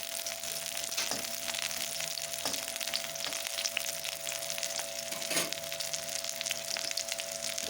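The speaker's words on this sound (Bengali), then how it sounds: "বন্ধুরা আমি কিন্তু এর মধ্যে নুন কিছুই অ্যাড করিনি, শুধু ফ্রাই করছি" Unsalted cauliflower fries in a pan, giving a steady, even sizzling hiss throughout, with a few faint stirring ticks. It is close and there is no speech.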